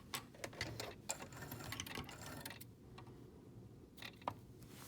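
Sewing machine locking a stitch on a fabric mask, a quiet, close rattle of short stitching bursts and ticking clicks, pausing briefly near the middle before a few more taps.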